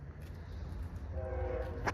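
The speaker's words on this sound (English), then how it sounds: "Sorry about the train in the background." A train rumbles past in the distance, low steady rolling noise with a faint horn-like tone rising near the end.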